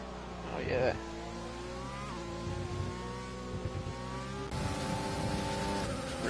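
F1 race cars driving in a racing game, an Abu Dhabi league race with McLarens, give a steady high engine whine with shifting pitch, a brief louder burst near the start and a rise in tone later on.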